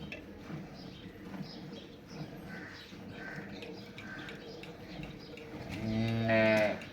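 Cholistani Friesian cross cattle on a farm, low lowing and murmurs at moderate distance, then one loud close drawn-out moo near the end, with faint bird calls in the background.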